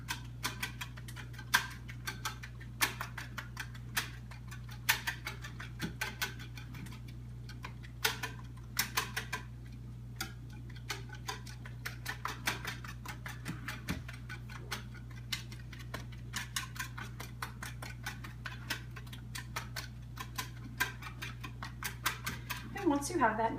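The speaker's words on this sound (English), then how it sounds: "we're just going to whisk all this together" A whisk beats egg mixture for French toast in a bowl, giving a steady run of quick light ticking taps against the side, fairly faint and close, with a low background hum.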